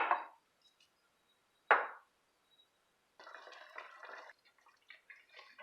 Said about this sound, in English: we are going to add 2 tablespoons of each sofrito, the tomato based one and the cilantro one